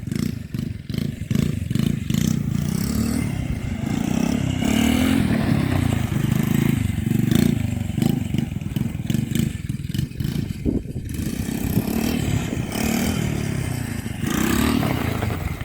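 An RC quad bike drives loudly and continuously, its motor whining with clattering and scraping as it brakes on the handbrake, turns and pushes on without a pause.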